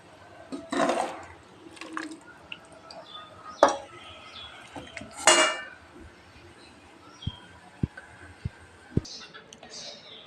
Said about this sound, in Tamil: இப்போ நம்ம அடுத்த பாத்திரத்துக்கு மாற்றிக்கலாம்.